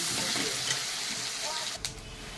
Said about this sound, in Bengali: আমার কিন্তু ফোড়নে আদাটা ভাজা হয়ে গেছে